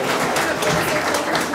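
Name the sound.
audience applause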